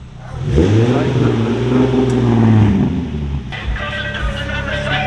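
A Nissan 350Z with a new exhaust roars loudly close by, its engine swelling in a strong rev before dropping back to a rougher, lower burble.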